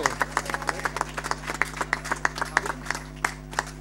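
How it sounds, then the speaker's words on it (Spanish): Live concert crowd clapping in a quick, uneven rhythm, sharp distinct claps at moderate level over a steady low hum, no speech. "Oye, aplaudan, por favor, fuerte."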